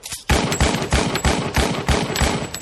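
Rifle gunfire crackles in a rapid, evenly spaced burst of loud, sharp shots, repeating steadily for a couple of seconds with no voices.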